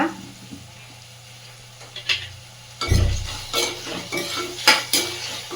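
Tomatoes with a little salt being stirred in a pan for paneer butter masala: quiet low hum at first, then a spoon scraping and clinking against the pan over a light sizzle, growing busier toward the end.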